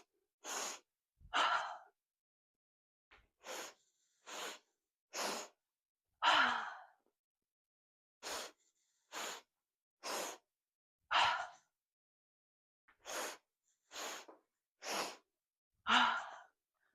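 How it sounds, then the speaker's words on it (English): Someone does a three-part breathing exercise: three short, sharp inhales followed by one longer exhale, repeated in four rounds with brief pauses between them. The breaths are close and clear against silence, and no one talks. "Inhale, inhale, inhale, exhale."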